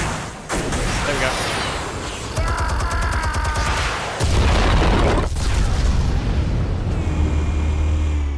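Explosion in Batman: The Telltale Series, heard as a deep boom with a rumbling low roar that swells midway and holds loud under game music and effects.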